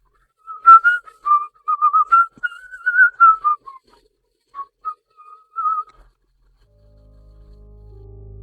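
Someone whistles a tune alone, a string of clear pitched notes in short phrases that fade out, followed by a low rumble.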